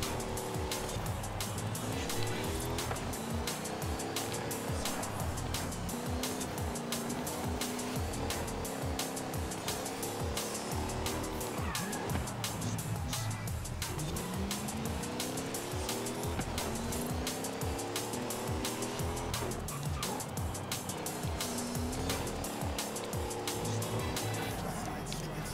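A car races through Forza Horizon 5 with a continuous revving engine that rises and falls through gear shifts, occasional tire squeal in the corners, and someone talking over the driving.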